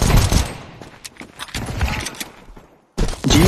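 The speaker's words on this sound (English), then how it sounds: "I was hearing too many gunshots." Rapid bursts of video game gunfire from a Counter-Strike 2 deathmatch crackle and rattle in quick succession, loud and close, with a brief silence before another volley starts.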